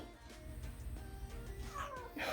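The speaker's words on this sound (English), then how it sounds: "My cat's here." A pet cat meows several times nearby, drawn-out calls rising and falling over a quiet room, with faint background sound between them.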